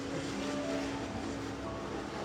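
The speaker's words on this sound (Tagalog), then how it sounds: "Traffic nga lang gantong oras." Steady city road traffic in Mandaluyong, a continuous wash of car engines and tyre noise at moderate distance with no clear passes standing out.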